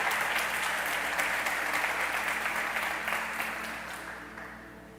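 A church congregation applauds during an evening service, a loud, dense burst of clapping that fills the room and then gradually tapers off toward the end.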